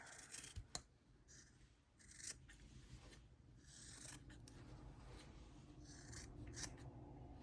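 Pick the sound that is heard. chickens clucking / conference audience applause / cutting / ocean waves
cutting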